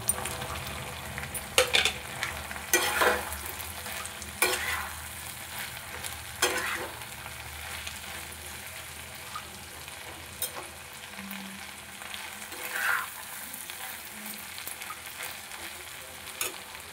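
Eggs frying in a pan make a soft, continuous sizzle, close but fairly quiet, punctuated by intermittent clinks and scrapes of a utensil turning them, with no one talking.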